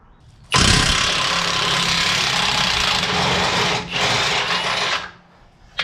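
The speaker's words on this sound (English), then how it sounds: "Let's see if the impact could just wring that out." An impact wrench on a long extension hammers at an 18mm bolt under a 2009–2014 Ford F150 5.0 4WD engine during oil pan gasket work, a loud, harsh rattling burst of about five seconds with a brief dip before it finishes.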